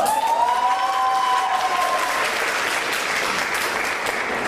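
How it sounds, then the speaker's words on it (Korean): Steady applause from an audience at a presentation event, loud and sustained throughout, with a short tonal whine near the start and no talking over it. "박수 한번 더."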